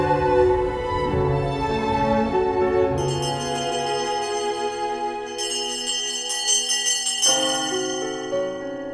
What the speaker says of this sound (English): Echoes of tofu sellers' bells brought back happy memories of his childhood